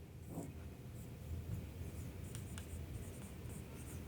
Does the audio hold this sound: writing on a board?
yes